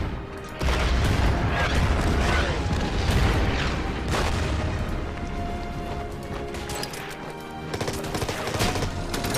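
Bombs exploding in a war video game, a dense run of booming blasts and crackling gunfire-like bursts that carry on loudly and continuously for the whole stretch.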